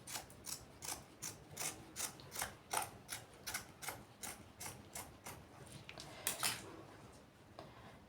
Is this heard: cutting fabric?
yes